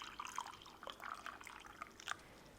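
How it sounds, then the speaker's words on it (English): Boiled water is poured into a mug, heard as faint, close liquid trickling and dripping in short uneven bursts without any voices. "you pour the water in a mug."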